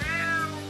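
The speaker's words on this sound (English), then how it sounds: "Damn cat." A single drawn-out cat meow from an indie video game, close and clear with a rising then falling tone, heard alone.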